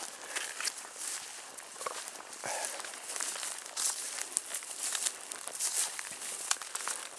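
Footsteps crunch through dry leaves and brush on wooded public land, a steady close walking rhythm with crinkling and rustling underfoot and no talk.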